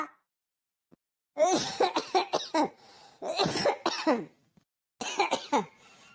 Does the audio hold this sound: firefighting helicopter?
no